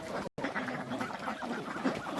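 Ducks on a small duck farm of around five hundred birds, quacking in a dense overlapping chorus at moderate distance, a continuous faint clamour.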